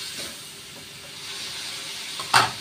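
Soy sauce and vinegar poured into a hot pan of chicken liver and gizzard adobo give a steady steam hiss, then a sudden loud sizzling burst near the end.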